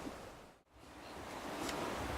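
Stormy wind and waves on the seashore at a sunset festival in Kabli, heard as a steady broadband rush of surf and gusting wind, loud and continuous with a brief dip, no voices.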